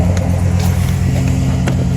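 A deep, throaty engine idles and rumbles close by, with a couple of brief revs rising over the steady low drone.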